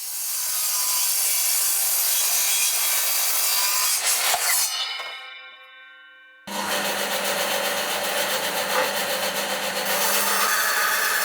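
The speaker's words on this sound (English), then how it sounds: "we'll cut it down roughly to length with a chop saw" Oak board cut to length with a chop saw: two loud, steady cutting passes of broadband saw noise, split by a brief drop and a ringing spin-down before the second cut starts abruptly.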